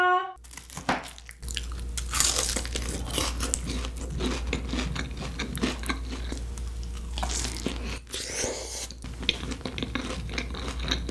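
Close, continuous crunching and chewing of a Korean snack-bar meal of pork cutlet, tuna kimbap and jjolmyeon, with dense bites and mouth sounds and no talking.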